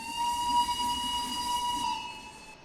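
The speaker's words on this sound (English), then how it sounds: "There's a little whistle." A steam locomotive whistle in the video game Steam and Steel sounds as one long, steady, piercing tone with a breathy hiss, loud and close, with no talk.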